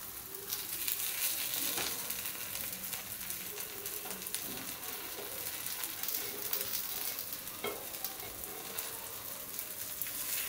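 Kara paniyaram made from idli batter frying in a paniyaram pan gives a steady, close sizzle with faint crackles throughout, and no one speaks.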